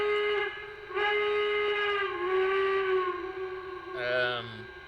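Whistle sound from a Lionel Union Pacific 4-12-2 model locomotive, a steady hooter-style chime holding several stacked tones for about five seconds, with a brief dip near one second and a shift in pitch toward the end.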